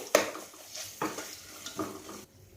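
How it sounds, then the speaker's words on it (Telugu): Ginger garlic paste frying with spices in a pan for bagara rice, a soft sizzle broken by several scraping stirs of a spoon, fairly quiet and close, ending abruptly. "స్పైసెస్ అన్నీ వేగిన తర్వాత అల్లం వెల్లుల్లి పేస్ట్ వేసుకోవాలండి. పచ్చివాసన పోయేంత వరకు వేయించుకోవాలి."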